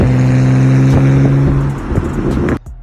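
A BMW E9X rolls past on a street with a steady engine drone and tire hum, loud and close, cutting off abruptly at the end.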